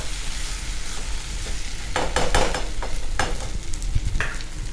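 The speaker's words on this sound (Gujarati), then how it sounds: "હવે આપણે તેને આવી રીતે તેને મિક્સ કરવાની છે અને 2 મિનિટ માટે થવા દેવાની છે." Sabudana khichdi being stirred in a hot pan gives a steady, close sizzle broken by a cluster of scraping, clattering spoon strokes in the middle and again near the end.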